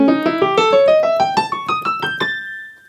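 Piano played with a two-hand drumming note pattern, a quick ascending run of about a dozen rhythmic struck notes that rises in pitch and ends on a ringing decay, close and alone.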